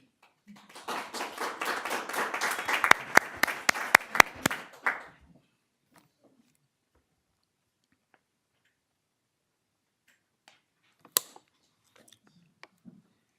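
Audience at a school district board of trustees meeting applauds, a burst of scattered clapping that swells for about four seconds and then fades, followed by silence and a few faint taps.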